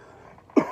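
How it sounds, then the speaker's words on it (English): A single short, sharp cough, close and fairly loud, after a moment of near silence. "I just got the cough"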